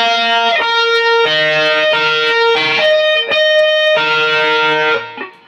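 An electric guitar with heavy distortion plays a song intro, sustained melodic notes ringing out in a repeating phrase, loud and alone, then fading at the end.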